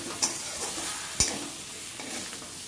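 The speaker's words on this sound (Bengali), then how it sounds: "আমার পেঁয়াজকালি ভাজা কিন্তু হয়ে গেছে।" Onion stalks fry in a pan with a soft, steady sizzle while being stirred. Two distinct clacks of the spatula against the pan stand out over the hiss.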